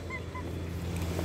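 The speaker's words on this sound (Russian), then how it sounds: "Уточки." Ducks give a few short honking quacks at moderate distance over a steady low rumble, with no talking.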